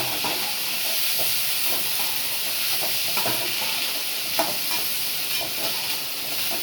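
Green gram sundal being stirred in a pan with sautéed onions, a steady close sizzle and hiss with soft repeated scraping strokes of a spoon throughout.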